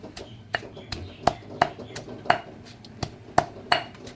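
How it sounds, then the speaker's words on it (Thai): A pestle pounds chili, garlic, shallot and shrimp paste in a mortar, making sharp, irregularly spaced knocks about every half second. The strikes are close and clear over a quiet background. "ตำให้ละเอียดเลยให้เข้ากัน ทั้งพริกลาบกระเทียมหอมกะปิ"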